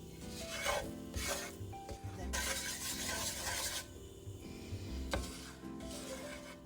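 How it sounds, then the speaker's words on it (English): A utensil scrapes steadily across the bottom of a pot, stirring a dark oil-based roux in continuous rasping strokes, close and fairly loud, with no talking. "I've stirred it continuously the entire time."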